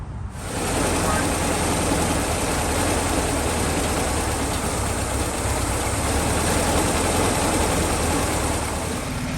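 A cold 1972 VW Bus engine runs after maintenance with new gaskets and base plate, a loud, steady, close rumbling idle that holds constant once it catches, with no talk over it.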